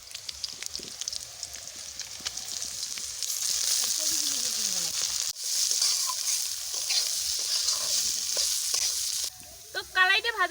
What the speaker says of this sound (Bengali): মরিচটা ভাজা হয়ে গেছে, মেলা কালাইগুলি দিয়ে দিই।